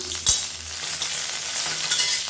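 Onions, garlic and curry leaves sizzle while frying in a pan for chutney, a steady crackling hiss broken by a sharp stir or clack early on, close and continuous with no talk.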